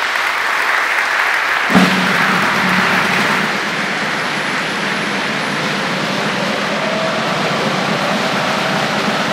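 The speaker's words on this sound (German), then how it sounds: "Herzlichen Applaus." Audience applause at the opening of the SIGA 23 trade fair, a steady wash of clapping from a crowd that holds evenly for the whole stretch, with no talk over it.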